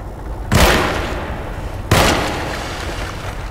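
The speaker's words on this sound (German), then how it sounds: "2 Schüsse." Two loud, sharp gunshots in the Alone in the Dark video game, about a second and a half apart, each followed by a decaying rumbling tail.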